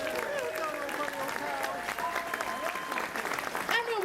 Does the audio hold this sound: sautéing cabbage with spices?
no